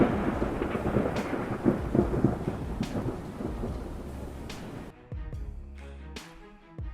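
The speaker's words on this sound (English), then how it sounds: "In Texas, cameras caught 2 lightning strikes crashing down as storms swept across the state." Thunder rumbles from lightning strikes during storms sweeping across Texas, with heavy rain hissing throughout and loud low cracks and booms rolling in repeatedly before the rain thins near the end.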